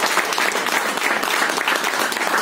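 Steady, dense applause from an audience at an insurance agents' award ceremony, loud and continuous throughout with no pauses.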